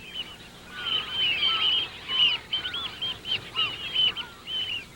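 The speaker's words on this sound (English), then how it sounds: "Every year, flocks of wildfowl and waders come south to winter at the estuaries all around the" Flocks of wildfowl call at a coastal estuary in winter, a busy overlapping chorus of honking and goose-like cries, fairly close and rising and falling in bursts with no voices.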